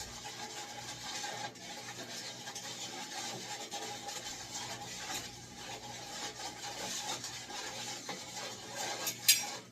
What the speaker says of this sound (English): I'm going to go ahead and mix this up.